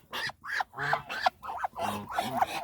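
A Muscovy duck calls in a run of short, breathy, raspy notes, about seven bursts in quick succession, close by and soft, with brief pauses between.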